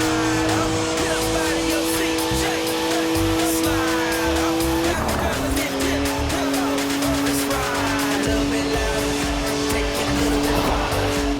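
A rear-wheel-drive BMW drifting in Forza Horizon 4, its engine droning steadily while tires squeal continuously through long slides, with a brief shift in pitch midway and a voice talking over the action.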